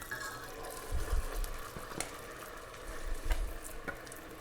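Thick sweet potato purée poured into hot syrup in a pan, giving low soft glops and a gentle bubbling sizzle in two heavier bursts, close by, with no talking.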